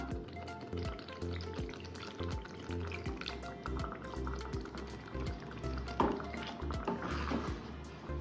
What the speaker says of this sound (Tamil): இப்போ நம்ம தண்ணி சேர்த்துடலாம்